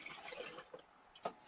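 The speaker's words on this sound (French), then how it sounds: "vous prenez votre crème de plantain et vous la versez dans vos pots" Melted plantain cream is poured into jars, a faint, close wet trickle with small drips and splashes over a brief moment.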